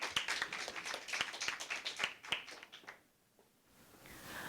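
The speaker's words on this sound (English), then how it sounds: "Please welcome her. Give her a round of applause." A small audience claps for a speaker at an inter-secondary school debate. The clapping is fairly quiet, with distinct individual claps for a few seconds before it dies away into a quiet room.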